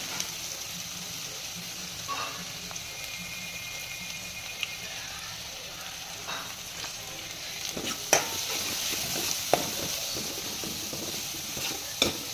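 Chopped onion with turmeric, green chillies and asafoetida crackles loudly in a pan of hot oil, a continuous sizzle broken by scattered utensil clinks and scraping stirs, growing busier in the second half.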